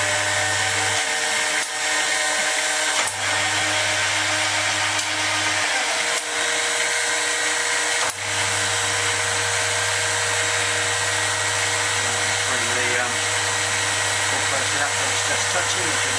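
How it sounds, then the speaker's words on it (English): A metal lathe with a 4-jaw chuck turning slowly, giving a steady motor hum and whine with a few faint knocks, loud and continuous throughout. "I've got the lathe going reasonably slow"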